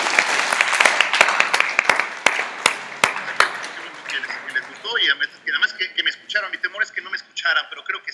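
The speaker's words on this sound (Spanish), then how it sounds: "Escucha los aplausos, por favor." An audience at the close of an advanced ecological niche modeling course at INECOL applauds for about four seconds, crisp claps fading out. A person then starts talking.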